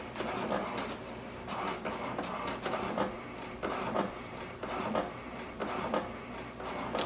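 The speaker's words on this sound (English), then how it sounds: "It will print the alignment page." An HP DeskJet 2900 printer prints an alignment page, its mechanism whirring and clattering in repeated carriage passes with rhythmic mechanical pulses, close and steady throughout with no speech.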